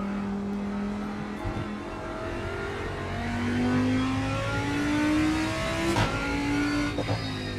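A Renault Clio's engine hums and revs steadily while driving, its pitch rising and falling with gear changes, loud and close throughout.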